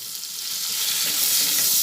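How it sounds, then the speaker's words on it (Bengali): Tomato fries in a pan with ginger paste and spices, giving a steady, close sizzle with soft stirring scrapes and no talk. "টমেটোটা দেওয়ার পরে সেটাও একসঙ্গে ভেজে নিচ্ছি"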